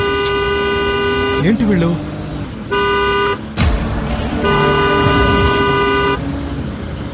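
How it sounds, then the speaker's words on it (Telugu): Car horns honk in traffic in long, steady blasts that stop and start again several times. Someone speaks briefly over the street noise. "హార్న్ కొడుతూనే ఉన్నావు"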